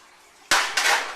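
A metal pizza pan being handled in a kitchen gives two sharp clattering knocks, close and fairly loud, each trailing into a bright ringing rattle.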